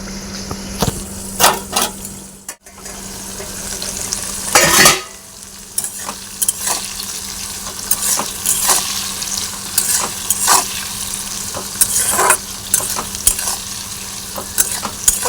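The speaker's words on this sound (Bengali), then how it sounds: "দেখো মানে আমার এইভাবে ভাজাটা ভালো লাগে" Vegetables sizzle steadily in a hot pan while a utensil scrapes and stirs them in repeated bursts, close up with no talking.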